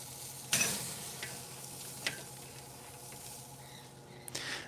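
Steaks frying in a hot pan, with a steady low sizzle throughout and a few sharp crackles and clicks from utensils, close and quiet with no talking.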